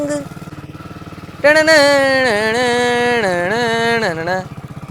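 A motorcycle engine idles with a steady low putter, then revs up loudly and holds a rising, wavering whine before easing off near the end.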